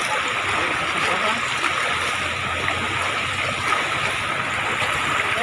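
Floodwater rushes in Trinidad, Guindulman, Bohol during strong winds, a loud continuous roaring surge with no letup, close and dense.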